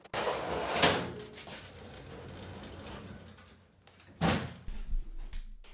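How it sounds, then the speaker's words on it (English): Metal drawers slid back one by one into a salvaged metal drawer unit in a workshop, giving two sharp clattering bangs with rattly scraping and a low rumble between them, close by and with no talking. "Put in all the drawers again."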